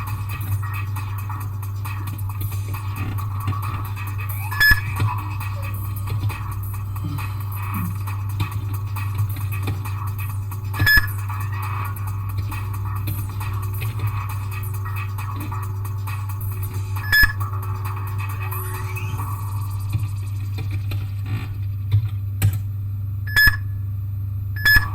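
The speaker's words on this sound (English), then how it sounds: "The beeping bothers some people." Trace alarm in the computer hacking game Hacknet: short electronic beeps repeat every few seconds, speeding up toward the end, over a steady low hum.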